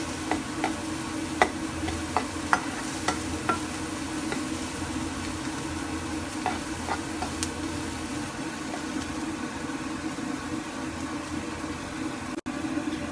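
Onion cooking in a pan for chicken shawarma gives a quiet, even sizzle with scattered small ticks and stirring clicks, heard close up and without talk.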